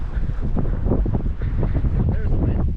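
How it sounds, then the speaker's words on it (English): Strong wind gusts buffeting the microphone on a snowy mountain trail along the Mountain Loop Highway, a loud continuous rumbling roar close up, with some voice mixed in. "There's the wind."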